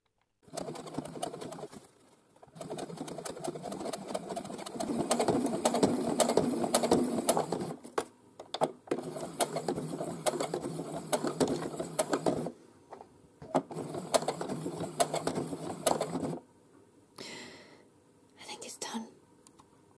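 A sewing machine runs in several rapid bursts of stitching, starting and stopping, with soft whispering in between.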